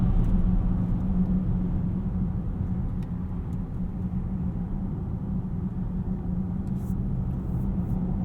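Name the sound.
Volvo XC60 T6 AWD driving at night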